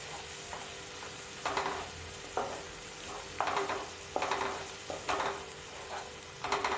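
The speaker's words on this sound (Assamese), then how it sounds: "মছলাখিনি ভালকৈ ফ্ৰাই হ'ব লাগিব" Mustard-based spice paste with turmeric and salt sizzles steadily in a pan for rohu fish curry, broken by repeated scraping stirs of a spoon at a close, moderate level with no talking.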